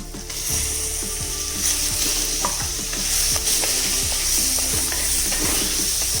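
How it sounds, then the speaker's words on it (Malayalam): Chicken with onions being stirred in a pan for a Kerala-style chicken stew: repeated scraping strokes of a spoon against the pan over a steady sizzle, close and fairly loud, with no voices. "ചിക്കൻ നന്നായി ഇളക്കി കൊടുക്കുക"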